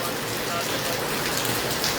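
Heavy rain falls outdoors in Hisar, a dense, loud and unbroken hiss filling the whole moment, with a voice speaking faintly beneath the downpour.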